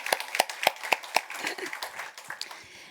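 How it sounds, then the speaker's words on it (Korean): A short burst of hand clapping from a church congregation, a few sharp claps ringing out in a roomy hall before quickly fading away. "우리 박수 한번 쳐주세요"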